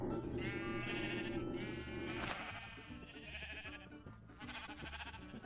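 Sheep bleat in modded Minecraft, the calls repeating over a busy layer of game music and mechanical sound effects that keeps playing the whole time.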